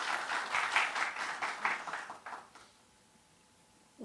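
An audience at a book release event gives a warm round of applause that stays fairly soft, then dies away after about two and a half seconds, leaving a quiet hall.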